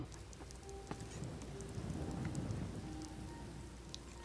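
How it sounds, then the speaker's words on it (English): Steady rainfall in the video game Skyrim, a soft continuous patter with scattered droplet ticks and a low rumbling undertone, fairly quiet and unbroken for several seconds. "Still raining."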